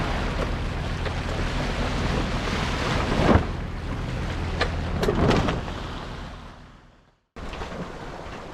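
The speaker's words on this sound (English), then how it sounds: "still under engine, no head sail, just motoring down, hoping to find some wind" A sailboat motors offshore under engine with no headsail set on a Canary Islands to Cape Verde passage: a steady wash of wind and water with a few sharp knocks, then a brief dropout before the rushing resumes.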